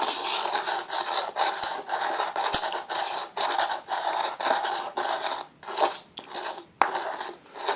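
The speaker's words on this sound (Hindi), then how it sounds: "इसकी भी तकरीबन 15-20 मिनट रगड़ाई करेंगे, ज़्यादा नहीं तो 15 मिनट लाजमी करनी है।" Salt mixture is rubbed and ground in a bowl in repeated rasping, scraping strokes, each stroke a short burst with brief pauses between, close and fairly loud with no talking.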